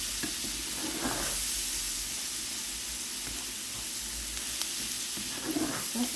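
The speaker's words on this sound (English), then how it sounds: "It's like we're frying it in butter." Steady sizzling of garlic frying in butter in a pan, a continuous hiss with occasional soft pops and stirring sounds.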